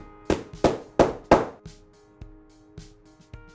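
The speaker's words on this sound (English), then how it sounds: "put it in the hole there and then tap it in with a hammer and that'll lock it in place" A hammer taps a metal T-nut into a wooden block, four sharp close strikes followed by several lighter, evenly spaced taps.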